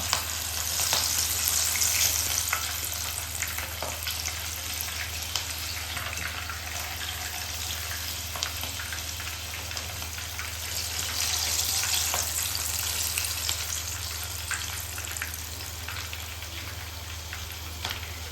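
Methi gota, fenugreek fritters, sizzling in hot oil, a continuous dense crackle that swells and eases over the long stretch, close and steady with no voices.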